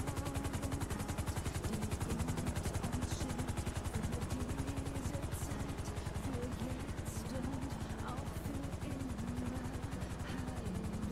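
Helicopter in a GTA roleplay game, a steady rapid rotor chop held loud and even throughout, with no talk over it.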